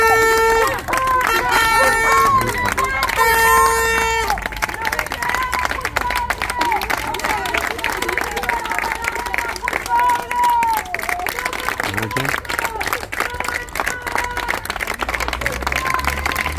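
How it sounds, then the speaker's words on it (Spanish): A crowd outside the Cutral Co courthouse in Argentina breaks into sustained clapping and celebration, applause running nearly continuously and fairly loud, mixed with crowd murmur and cheering voices. "Largo abrazo aquí, largo aplauso aquí en los tribunales."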